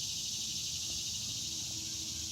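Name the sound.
insects chirping loudly outdoors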